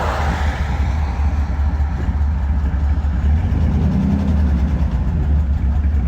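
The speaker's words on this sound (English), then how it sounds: "I'll show you if you can hear that loud ass tick noise." A Ford F-150 truck engine failing and blowing up, with a loud, steady mechanical running drone and a fast repetitive ticking throughout, close and continuous with no talk.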